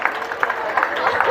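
Audience at an Islamic preacher's gathering clapping briefly on cue, a short burst of scattered hand claps that thickens toward the end.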